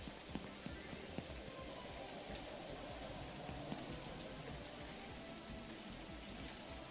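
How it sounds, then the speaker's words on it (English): Steady rain falls in an Unreal Engine MMO game world, a dense, even hiss with scattered faint drop ticks, continuous and alone without speech. "I hear the noise of the rain, but I don't see the rain."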